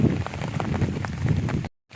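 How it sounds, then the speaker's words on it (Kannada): Rain falling steadily in a green village, a continuous soft hiss with scattered drop patter, moderately close, cutting off briefly near the end. "ಮಳೆ ಬಂದರೆ ಒಂಥರ ನೋಡೋಕ್ಕೆ ಒಂಥರ ಚಂದ"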